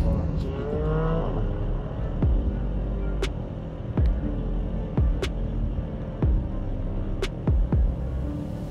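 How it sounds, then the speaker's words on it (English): A Porsche 718 Boxster GTS with a 4.0-liter flat-six runs on an autocross course, its engine droning steadily inside the cabin with repeated short thumps and rising pitch sweeps. "We have the 718 Boxster GTS with the 4-liter flat six"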